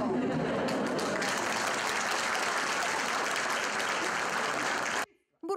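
Loud, dense applause from teachers gathered in the Berehove district, welcoming Ukraine's education minister, sustained for about five seconds before cutting off abruptly.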